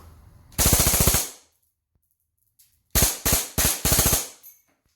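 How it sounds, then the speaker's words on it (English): Full-auto bursts from an EMG/SAI red Hi-Capa airsoft pistol: one long rapid burst, a pause with a faint click, then several short, loud, close rattling bursts in quick succession. "this gun, that is designed to shoot full auto, and it'll lock after the BB, after the last BB"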